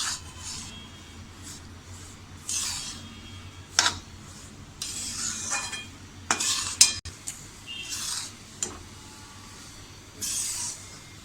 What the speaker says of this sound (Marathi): मीडियम गॅसवरच हा भाजून घ्यायचा आहे आणि छान असा खमंग रंग बदलेपर्यंत भाजून घ्यायचा आहे